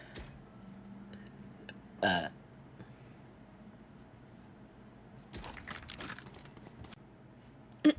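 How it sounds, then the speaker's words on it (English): A woman lets out deliberately forced fake burps, a short croaky one followed by a longer rumbling burst, close to the microphone in an otherwise quiet room with light clicking noises. "Yeah, that's how you fake burp."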